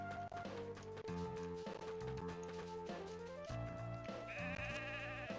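Sheep in the video game Mother 3 bleat in a run of wavering electronic cries over a busy game soundtrack, with shifting tones and no voices.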